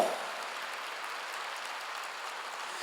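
A church congregation applauding, a brief burst of dense clapping heard at a moderate distance, with no speech over it.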